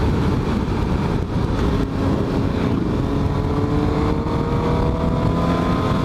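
A 2018 Suzuki GSX-S750 motorcycle engine drones steadily and loud through a continuous ride, pulling hard with a constant rumble and wind roar and no talking.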